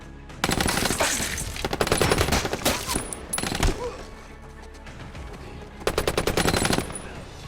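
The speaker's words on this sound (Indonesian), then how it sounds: "Sehingga si abah yang posisinya di atas pun langsung menembak ke arah kelompok Charlie." Loud bursts of rapid automatic gunfire in a film scene, several sustained volleys separated by short lulls, with echoing reverberation between them.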